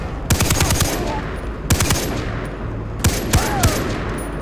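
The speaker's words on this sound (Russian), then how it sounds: "Хорош пулемет." Bursts of rapid machine gun fire in the video game Far Cry 3, three volleys, loud and close, with sharp repeated shots separated by brief pauses amid a steady background rumble.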